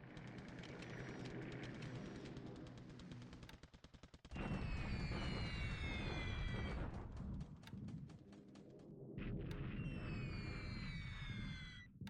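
Rapid bursts of gunfire and booming explosions from bombing and anti-aircraft flak in the World War II naval strategy game War in the Pacific: Admiral Edition, set in August 1943. The sound is loud and dense, crackling almost constantly, with sharp rattling volleys, whistling streaks and a brief lull midway.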